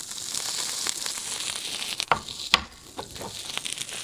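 Salmon and bean sprouts fry in a pan with a soft, steady sizzle close by, broken by a couple of sharp clatters and rustles as the sprouts are added and stirred, with no talking.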